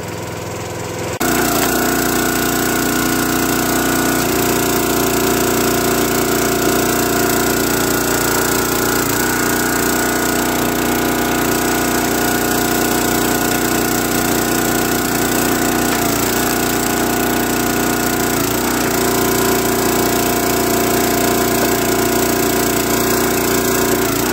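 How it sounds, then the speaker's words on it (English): A log splitter's engine drones loudly and steadily while it splits leftover willow wood, its pitch dipping briefly now and then as the machine takes a load. "Well, that splitter makes short work of that."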